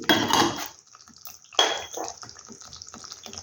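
Water swished and poured in a spice bowl during home cooking of a bottle-gourd dumpling recipe, with clinking of the bowl against other dishes in a short burst, a pause, then more splashing and light clatter nearby.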